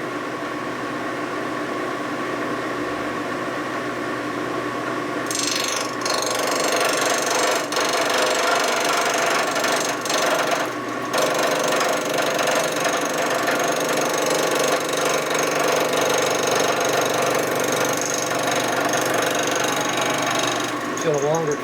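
Machining cut on a weld-repaired 1947 Harley-Davidson EL knucklehead 74ci motor case, a steady dense grinding, whirring mechanical noise that runs continuously and loud, with a brighter, harsher chattering texture after the first few seconds.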